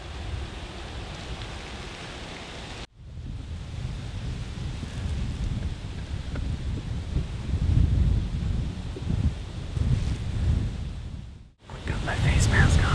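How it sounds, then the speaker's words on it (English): Strong wind gusts buffet the microphone outdoors during an early-season deer hunt, a loud continuous rumbling roar with bursts that swell and fade over several seconds, broken by two brief dropouts. "It's super windy."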